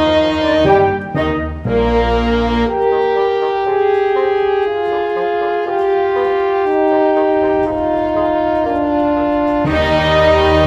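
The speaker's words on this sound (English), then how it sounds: "he extends the progression by incorporating suspended chords, and that sounds like this" Orchestra with piano playing a passage from Mozart's Piano Concerto No. 22, a chord progression extended with suspended chords; sustained harmonies shift steadily over about ten seconds, full and close, with no talking.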